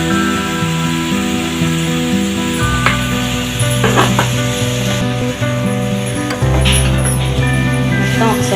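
Chicken curry fries in a pan with turmeric and chili powder, giving a steady loud sizzle with occasional stirring scrapes, while music plays underneath.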